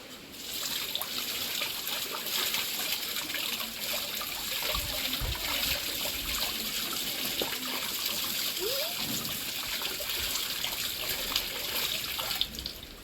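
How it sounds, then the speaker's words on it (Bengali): Amla, Indian gooseberries, being washed under running water: a steady trickle and splash of tap water with occasional louder splatters as the fruit is handled, close and continuous, with no voices. "আমলকিগুলো দেখো আমার ধোয়া হয়ে গেছে"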